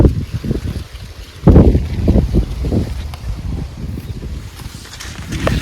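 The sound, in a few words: strong wind in a field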